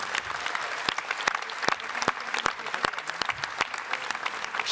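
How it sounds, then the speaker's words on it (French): An audience at a union congress claps in a dense, steady round of applause, with sharp individual claps standing out near the listener. "je vous demande un tonnerre d'applaudissements"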